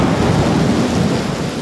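A thunderstorm rolling in over a city park in Cuba, with steady, dense rain and a deep continuous rumble of thunder filling the scene throughout at a loud, even level.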